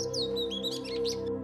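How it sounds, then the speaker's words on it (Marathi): Small birds chirp and tweet by a stone-carved garden water basin among bushes, with rapid, bright high calls layered over a steady background hum, near and moderately loud, with no voices. "यासारखे बरेच पक्षी पाण्यासाठी, आंघोळीसाठी तसंच खाद्यासाठी इथे येतात।"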